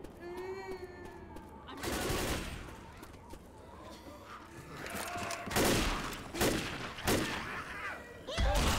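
Gunfire in the Left 4 Dead campaign, with repeated loud bursts of shots spread across the clip over a busy backdrop of game sounds and music.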